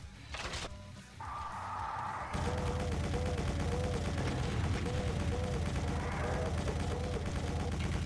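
A weapon in the video game Doom fires repeatedly, a steady stream of thumping shots over dense game noise, preceded by a few brief mechanical sounds and a short tone.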